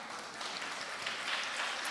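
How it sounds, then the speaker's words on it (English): Applause from a conference audience at a college engineering event, greeting a speaker taking the podium: a dense, steady wash of many hands clapping at moderate level, continuous and even throughout without a voice above it. "Let's give a grand applause to ma'am now."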